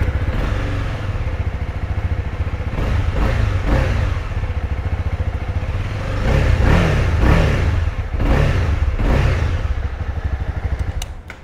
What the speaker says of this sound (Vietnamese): Vừa rồi là tiếng động cơ của CB300R các bạn